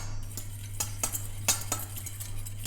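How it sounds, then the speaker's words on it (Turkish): Four egg yolks are whisked in a bowl, a run of quick clinking taps as the whisk strikes the bowl, fairly soft and close, over a low steady hum. "4 tane yumurtanın sarısını iyice çırpıyorum."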